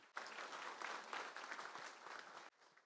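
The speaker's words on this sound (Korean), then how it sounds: "우리 모두 참석해 주신 모두를 위해서 박수 부탁드리겠습니다." Applause from guests at an honorary doctorate ceremony at Jeonju University, a dense burst of clapping that starts abruptly, holds steady for over two seconds, then cuts off to quiet room noise.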